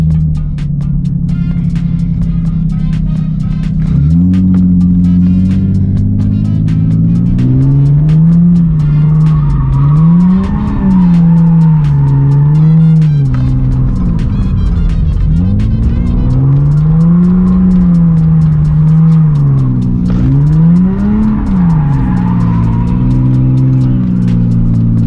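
A 2JZ-engined Lexus IS300 drifting a donut on a wet street, engine held high and loud with rising and falling revs as the car circles, tire noise and spray beneath, continuous and close.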